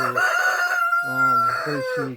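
A rooster crows nearby, loud and harmonic, in a drawn-out call followed by a few shorter bursts.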